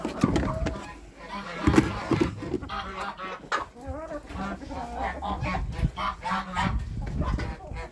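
Geese honk repeatedly at close range in a farmyard, harsh nasal calls overlapping with clucking chickens and a voice talking over them.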